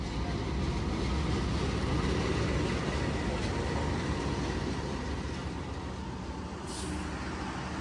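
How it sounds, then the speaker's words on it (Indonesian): An Argo Cirebon passenger train from Tegal bound for Gambir pulls into the station, a steady loud rumble and rolling noise filling the whole stretch with a brief hiss near the end. "Yang baru masuk ini adalah kereta api Argo Cirebon dari Tegal tujuan Gambir."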